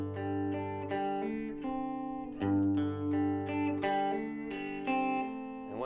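Clean guitar plays a triad rhythm pattern, with a hammer-on from the open G root up to the second. Ringing chord tones and plucked notes repeat in a steady pulse, close and moderately quiet.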